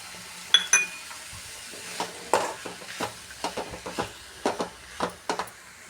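Grated radish being mixed with lemon juice for a three-colour vegetable palya, a series of soft, irregular stirring scrapes and light clinks close by, with no talking.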